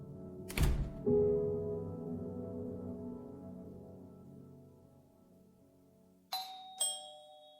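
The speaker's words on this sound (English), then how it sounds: "the sun was setting and the Fabiano's doorbell rang for the first time that night" A house doorbell rings on a sunset evening, a loud two-tone ding-dong that rings out and slowly decays, followed a few seconds later by two sharper, fainter chimes.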